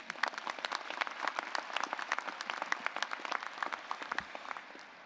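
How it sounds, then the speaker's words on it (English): An audience at a health professions commencement ceremony claps steadily for several seconds, the individual claps sharp and distinct, a moderately sized crowd heard from a middle distance, fading slightly at the end. "Give them a round of applause,"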